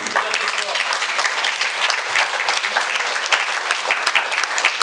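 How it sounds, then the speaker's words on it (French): Audience applause at an inclusive book fair, a dense, steady wash of many hands clapping together for the full stretch, loud and unbroken, with no talk over it. "On l'applaudit."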